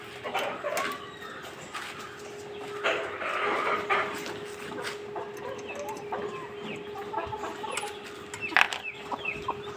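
Native country hens clucking in a backyard coop, one red-and-speckled bird among them, with soft irregular clucks and faint distant barking over a steady low hum.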